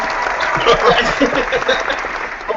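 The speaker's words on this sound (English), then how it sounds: "Let's give a round of applause" A studio group on a talk show gives a brief round of applause, with dense, steady clapping filling the short moment at moderate loudness from start to finish.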